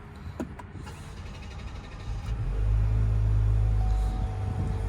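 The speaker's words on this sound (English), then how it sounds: "Longer crank over than I expected." A 2020 Cadillac XT4 Premium Luxury AWD cranks for a moment and then catches, settling into a steady, loud low engine rumble that holds through the rest of the clip.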